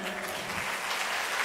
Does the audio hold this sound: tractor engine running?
no